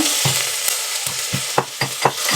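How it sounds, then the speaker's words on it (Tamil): A tempering of vadagam, mustard seeds, dried chili and curry leaves sizzles in hot oil, with close, rhythmic stirring scrapes and spatters over a continuous frying hiss. "தாளிப்பு போட்டுக்கிறேன் வடகம் கொஞ்சமாக கடுகு காஞ்ச மிளகா கருவேப்பிலை"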